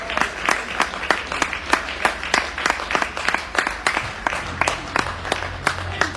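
Rugby commentators on the commentary gantry clap for the Featherstone players, a steady series of sharp, close individual claps at a moderate pace over a low background hum.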